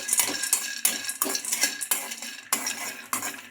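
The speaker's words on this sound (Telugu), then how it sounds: "ఈ పల్లీలను బాగా ఫ్రై చేసుకోవాలి" Peanuts are fried in a kadai, with quick repeated stirring strokes that rattle and scrape the metal and a light sizzle underneath, close and brisk.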